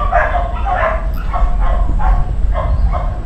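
A dog at the neighbouring house barks repeatedly in a steady series of about six or seven sharp, fairly loud barks over a constant low rumble of background noise.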